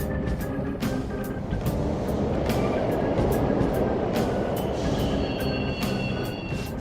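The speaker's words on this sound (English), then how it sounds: "The trains are totally... Of course they are. We're in the subway, you know." Subway trains rush past in Persona 5 Royal, a loud, sustained rumble of wheels on rail with rhythmic clacks over the track joints and a thin metallic squeal rising near the end.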